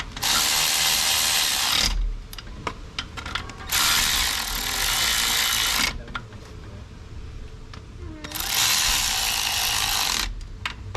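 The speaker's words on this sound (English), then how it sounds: "let's snug these with an actual ratchet now" Ratchet snugging bolts on the supercharger housing of a BMW E36, three bursts of rapid clicking, each about two seconds long, separated by quieter pauses with faint shop noise.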